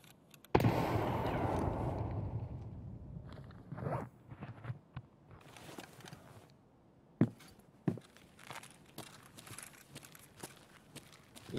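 A grenade goes off in Escape from Tarkov with a sudden loud blast that decays over about three seconds, followed by scattered thumps, footsteps and small clattering sounds, with no voices.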